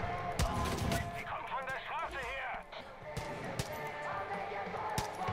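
Shotgun blasts in the Far Cry 5 video game, a few sharp booming shots spread across the moment, heard under steady voices talking over game music and effects.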